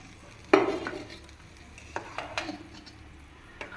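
A spoon stirs and scrapes through a banana milk dessert in a bowl, a sharp clink followed by several softer knocks and scraping strokes, close and fairly loud with no talking.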